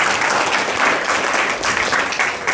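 An audience at a religious lecture applauds, dense steady clapping filling the whole stretch, loud and close, with no speech over it.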